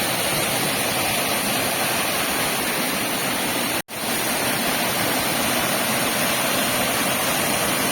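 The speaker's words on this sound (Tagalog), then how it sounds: "we're enjoying a very nice, spectacular view ng waterfall" Tenogtog Falls in Mayoyao roaring as a dense, unbroken wash of falling water, loud and close, with a brief dropout midway and no voices.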